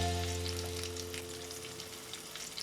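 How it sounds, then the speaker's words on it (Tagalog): A pork chop fries in a pan with butter, garlic and parsley, giving a faint, steady sizzle with soft crackle and spatter over a low constant hum. "Iprito din ito ng 3 to 4 minutes or hanggang mag golden brown at crispy."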